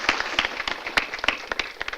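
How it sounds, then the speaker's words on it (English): An audience at a vision-services panel event, Solutions in Sight: Access to a Full Life, breaks into applause. The clapping is moderately loud and uneven, with sharp individual claps standing out over about two seconds. No one speaks. "A big round of applause, first of all."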